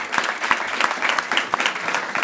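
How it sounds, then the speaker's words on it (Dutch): Applause from an audience at a sustainable mobility show, dense, lively clapping with uneven peaks and a loose pulse, loud and close throughout. "Ja, dan krijg je applaus."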